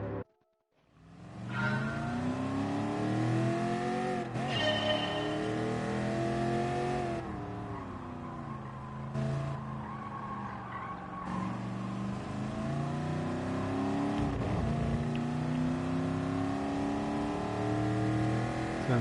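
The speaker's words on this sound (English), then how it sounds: "Not driven this Camaro before, or this track" Chevrolet Camaro race car engine in the GT Sport video game: sustained loud revving that climbs through the gears with brief dips at each shift, driving steadily after a quiet start with no talk.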